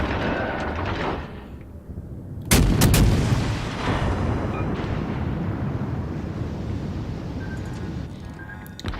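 Warship naval guns firing in World of Warships Legends on Xbox One X, one heavy booming salvo followed by a rumbling tail, layered over constant loud battle noise and engine drone, no talking.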